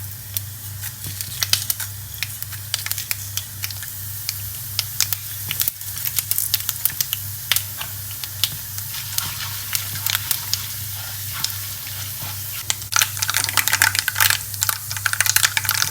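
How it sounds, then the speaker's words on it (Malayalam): Chana dal, mustard seeds, urad dal and cumin sizzle in hot oil as pickle is cooked, with a steady frying hiss broken by many sharp pops and crackles that grow busier toward the end. "ഈ കടലപ്പരിപ്പും കടുകും ഉഴുന്ന് ജീരകം ഇതെല്ലാം കൂടി അങ്ങോട്ട് ഇട്ട് കൊടുക്കുക"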